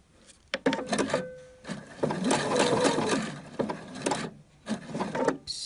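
A sewing machine stitches patches onto trouser legs, running in several bursts with short pauses between them, close and fairly loud.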